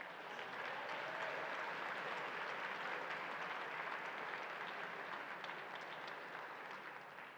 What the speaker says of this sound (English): let's give all of our parents a round of applause